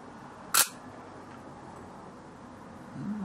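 A Zorki film camera's shutter fires with one crisp click, loud and close, followed by quiet room hiss.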